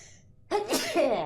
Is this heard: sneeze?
yes